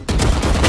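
Rapid gunfire rattles loud and close for under a second in the shooter game Valorant.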